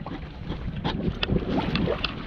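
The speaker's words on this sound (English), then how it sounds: "The wind's just picked up for a bit" Sailboat moving under sail off the Scottish islands as the wind picks up, engine off: a steady rush of wind and water noise with light splashes and creaks, fairly close, no talk.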